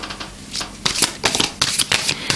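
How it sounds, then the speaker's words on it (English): Close, crisp riffles of a deck of cards being shuffled, several quick bursts in a row with short pauses between. "I keep shuffling the cards."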